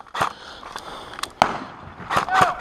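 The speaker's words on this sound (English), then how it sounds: "lobs a Mark 5 grenade all the way to the corner of the church where it lands at a guy's foot" An airsoft Mark 5 grenade goes off at the corner of a church during a UK milsim game, giving several short, sharp cracks and pops that stand out over wind and outdoor ambience, with distant shouting nearby.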